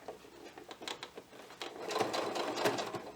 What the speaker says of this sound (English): Just backstitch to secure it.